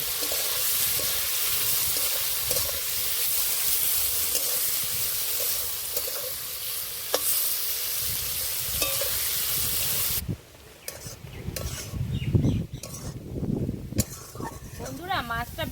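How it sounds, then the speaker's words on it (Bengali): Jackfruit sizzles in a pan with salt and turmeric, a steady close frying hiss for about ten seconds, then sharper scraping, clinks and stirring bursts over a quieter sizzle. "এবার দিয়ে দেবো স্বাদ মতো লবণ হলুদ গুঁড়ো এবার ভালো করে ভেজে নেব"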